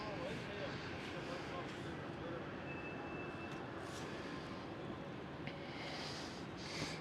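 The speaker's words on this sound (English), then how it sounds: "There they go." A jet airliner taking off at Schiphol Amsterdam, heard from the panoramic terrace as a steady, far-off roaring rumble that holds evenly throughout, with faint voices underneath.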